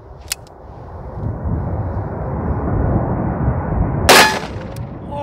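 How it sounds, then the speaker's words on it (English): A Magnum bullet strikes a steel target outdoors: a sharp crack early on, then a louder metallic burst near the end, both over a steady rushing broadband noise. "Time for the Magnums."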